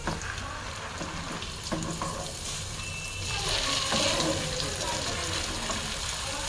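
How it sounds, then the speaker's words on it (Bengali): Boiled noodles stir-fried with spices and fried eggs in a pan give a steady broadband sizzle with scraping stirs, growing a little louder midway and continuing alone throughout. "এখন দিয়ে নিচ্ছি সেদ্ধ করে রাখা নুডলস।"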